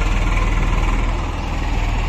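A tractor loaded with cement and pipes idles nearby, a steady low diesel rumble that stays loud and even, with no voices.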